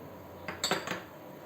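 A spatula stirs walnut cookie dough with a little cocoa in a bowl, giving three quick scraping knocks against the bowl. The knocks are close and brief, with quiet before and after.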